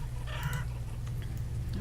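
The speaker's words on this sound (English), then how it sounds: "that's a lot of chickens" Chickens in the village-building game Banished cluck in a busy flock, with a short burst of calls over a steady low background hum.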